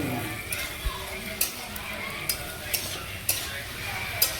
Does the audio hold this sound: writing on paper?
no